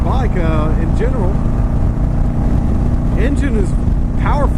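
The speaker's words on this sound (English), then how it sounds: "Give her a little bit more rev, and she does really well." A 2004 Yamaha V-Star 1100 motorcycle engine runs with a continuous loud, low rumble, steady and close, while someone talks over it throughout.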